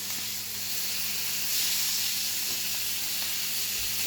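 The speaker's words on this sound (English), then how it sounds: "I'm going to turn the steak over." A steak frying in a pan with butter and oil, a continuous hissing sizzle held at a moderate level, swelling slightly partway through with faint soft pops and no talk.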